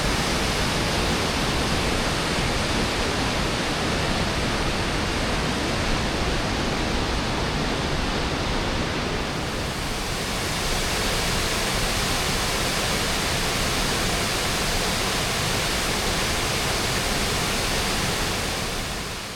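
The roaring waterfall at Naeyeonsan, one of its twelve falls, pours in a steady, dense rush of white water that stays loud and unbroken throughout, with a slight shift in tone midway and no voices.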